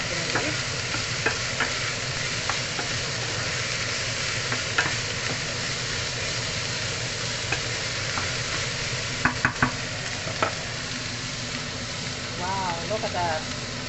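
Beef cubes frying in a hot pan give a steady, close sizzle throughout, broken by occasional scrapes and clicks as they are stirred, with a voice talking faintly underneath.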